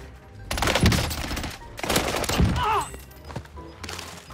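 Rapid bursts of automatic weapon fire in the video game Warzone, two loud clusters of shots separated by short pauses, with faint whooshing game effects between them.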